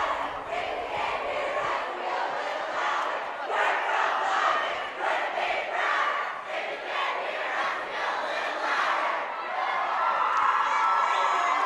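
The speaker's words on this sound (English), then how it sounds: "Crowd celebrating here." Crowd of home fans in a high school gym roaring and cheering after the Lyman Lady Eagles sweep Star Valley in volleyball on homecoming week; sustained loud shouting and whooping, with scattered voices through it.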